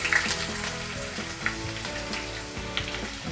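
Chopped ginger and garlic frying in hot oil for paneer bhurji, giving a loud, close, steady sizzle with a few sharp pops and spatters over three seconds, no voices.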